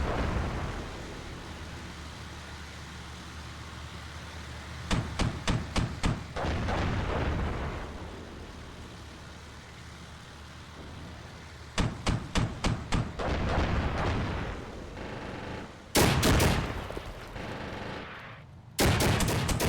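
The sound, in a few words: airstrike explosions and gunfire in Armored Brigade 2 video game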